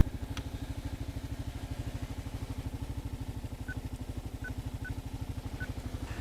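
A 2022 Kawasaki KLR 650 adventure motorcycle runs steadily while being ridden, its single-cylinder engine throbbing in an even, continuous pulse close by, with a few faint high beeps over the top.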